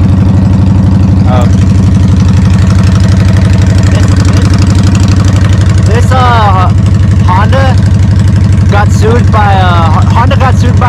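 Honda Shadow 750 motorcycle idles with a steady, loud low throb close by, continuous for the whole stretch, while someone talks over it at intervals.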